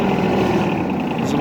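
A Yanmar Ke-1D mini tractor engine revs up under throttle, a steady, close, continuous mechanical drone with rough low-end chug throughout.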